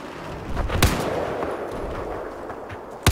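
Battlefield 4 gunfire rings out in two sharp, loud shots, one near the start and one at the end, over a steady wash of in-game battle noise.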